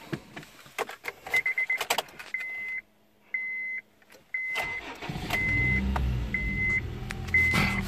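A Honda Civic with a cold air intake, previously in a wreck, is started with the key: keys jangle and a chime beeps repeatedly, then the engine cranks and catches into a steady mid-pitched idle close by.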